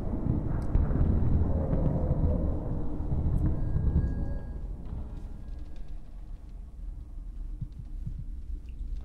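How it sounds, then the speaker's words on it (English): Thunder rolls in the horror game Baby Blues Nightmares as a deep, sustained rumble. It is loud at first and slowly fades to a quieter, lingering low background over several seconds. "almost flushed out by the thunder noise"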